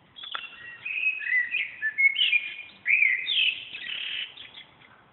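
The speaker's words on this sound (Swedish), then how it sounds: "nu när fåglarna sjunger så här vackert, då är verkligen våren här" Birdsong on an April Sunday evening in Blackeberg, Bromma, Stockholm: several birds trill and whistle in overlapping phrases at moderate distance, steady and clear with no talking.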